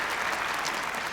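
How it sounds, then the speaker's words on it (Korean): Audience at a peace forum lecture breaking into a short burst of steady, dense clapping, fairly near and heard alone without any voices over it. "이러한 내용을 만들어주신 우리 모두를 위해서 박수 한번 올려주시면 고맙겠습니다"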